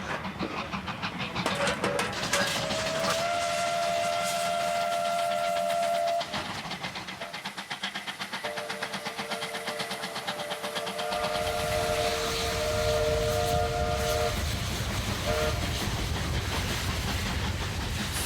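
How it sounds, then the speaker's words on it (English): Two West Australian W-class mountain-type steam locomotives double heading uphill, a loud continuous working roar with steady chuffing and long whistle tones rising over it, no voices. "These are West Australian W-class mountain-type locomotives."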